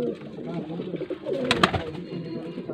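A racing pigeon coos softly in a few low, rolling calls, with a couple of sharp clicks or flaps standing out briefly.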